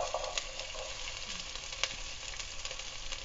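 Chopped onion fries in hot oil for a fava bean soup, a close, dense and continuous sizzle with small pops and crackles, heard without any talk.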